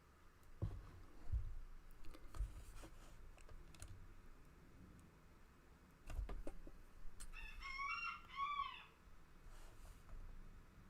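A hen squawking in a drawn-out, wavering call midway through, fairly faint behind scattered clicks and taps of typing on a keyboard.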